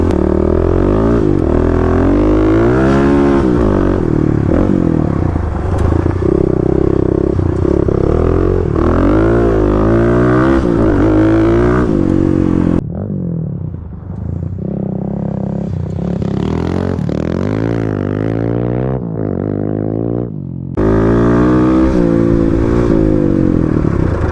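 A Kawasaki KLX351 dirt bike revs hard while sliding sideways through a gravel road corner. The engine pitch climbs and falls in repeated loud, close sweeps, then briefly drops to a quieter lull before surging again.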